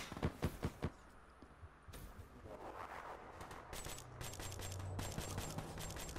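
Rapid bursts of video game gunfire, a quick string of sharp shots up front, then quieter crackling fire and a low hum continuing after.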